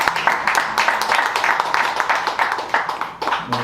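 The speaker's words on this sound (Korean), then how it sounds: "박수 한번 부탁드리겠습니다" Audience applause for a poet at a book launch event: a small crowd claps in quick, uneven, overlapping bursts, fairly close and moderately loud for a few seconds with no speech over it.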